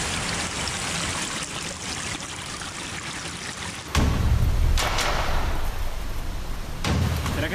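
Water rushes steadily from a mountain stream or waterfall, a continuous broadband hiss that grows louder midway, broken by a few sharp knocks and splashes.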